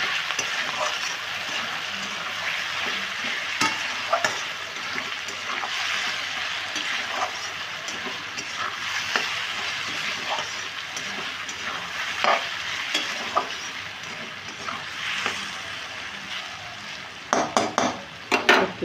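Potatoes with turmeric and salt are stir-fried in a pan, a steady close sizzle with repeated scrapes and clinks of a spatula against the metal, growing busier toward the end.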